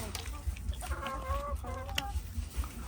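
Chickens cluck repeatedly at a sheep farm in Ubon Ratchathani, Thailand, with short rhythmic clucks close by and a brief bird call, no voices over them.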